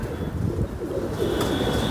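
A pigeon coos softly and steadily, close by, with light wind noise on the microphone. The bird was caught at a border and carried six stamps.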